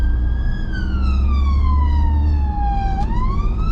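A UK ambulance siren wails, sweeping slowly downward in pitch, then abruptly jumps back up, loud and close over steady rush-hour traffic rumble.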